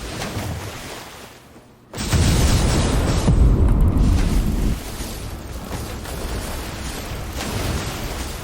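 Magic ice explosion attack in the Roblox game Arcane Odyssey: after a thin lead-in, a sudden heavy boom erupts and rumbles loudly for a few seconds, then settles into a lingering, crackling roar.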